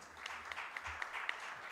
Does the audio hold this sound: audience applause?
yes